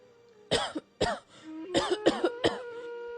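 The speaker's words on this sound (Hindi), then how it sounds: "तभी दूर से किसी के खांसने की आवाज सुनाई दी।" A series of raspy coughs from an old woman, five or six in uneven bursts, close and fairly loud against a quiet background.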